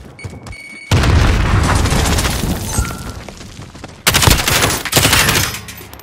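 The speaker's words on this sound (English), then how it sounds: "Grenade out!" Grenade explosion in Call of Duty Modern Warfare gameplay, loud booming blasts with bursts of gunfire, a sharp onset near the start and a second heavy burst midway, close and dominant.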